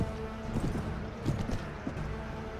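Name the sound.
warhorse hooves in Warband video game mod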